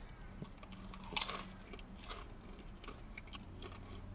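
A crunchy bite into a Cajun chicken tropical blend pizza from 3 Black Bears, a sharp crunch at about one second, then soft chewing over quiet room noise.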